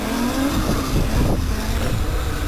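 A Razor electric dirt bike held in a long wheelie on a dirt trail, giving a steady loud motor whine and rushing wind noise that continues throughout with no talk.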